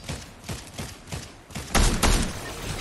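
Gunfire in a squad shooter video game: scattered shots patter first, then a loud, dense burst of rapid fire bangs close by before trailing off.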